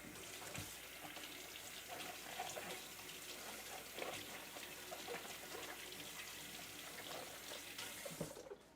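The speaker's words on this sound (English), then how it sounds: "Actually, I should wash them first. Remember guys, wash your eggplant." Running water pours steadily from a tap as eggplant is washed under it, a continuous faint rushing with small splashes throughout.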